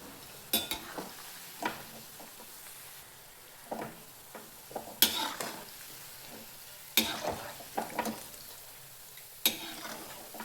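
Shankarpali sweets fry in oil on a low flame, giving a soft, steady bubbling sizzle broken by sharp metallic scrapes and clinks of a slotted spoon against the pan every second or two.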